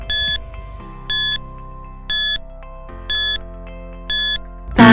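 A quiz countdown timer plays a repeating tonal beep pattern, five evenly spaced bright chimes over a steady ticking drone, clear and loud, ending in a sudden burst.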